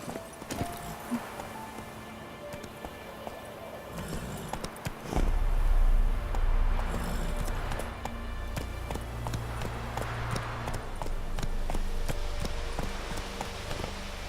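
Roach, Geralt's horse in The Witcher 3, clip-clopping in a steady hoofbeat rhythm that grows louder midway, with game ambience around it and no talk over the hooves.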